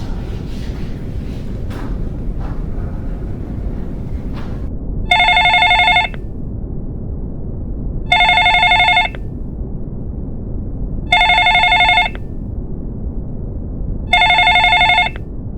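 A telephone rings in four evenly spaced electronic trills, loud and close, over a steady low background hum.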